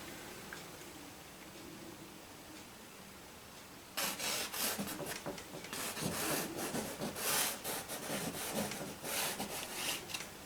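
A painting knife scrapes across a surface marked with charcoal lines, in repeated rough rubbing strokes that start abruptly after a quiet stretch and continue at a moderate, close level.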